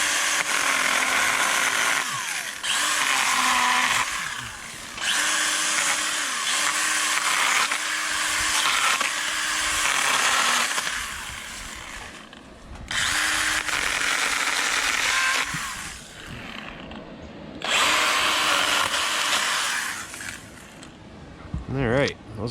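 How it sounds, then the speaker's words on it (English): A Stihl GTA 26 battery pruner cuts through tree limbs in loud, close bursts of high motor whine, each lasting several seconds, with short quieter gaps between cuts. "we're just going to use the GTA with one hand and just start trimming them down"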